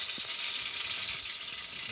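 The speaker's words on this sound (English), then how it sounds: "We're gonna put this in the oil. You're gonna hear it sizzle." Steady hissing sizzle of oxtail searing in hot oil, close and even throughout, with no talking.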